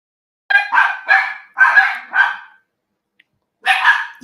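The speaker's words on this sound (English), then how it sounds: "The dogs are barking, guys." Dogs barking in a loud close burst of about six sharp barks in quick succession, a pause, then one more bark.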